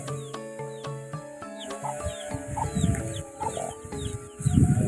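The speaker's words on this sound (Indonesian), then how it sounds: "Ada ayam ini." A chicken clucks repeatedly at close range, its calls mixing with rustling and other fowl sounds in an outdoor bamboo grove beside a river.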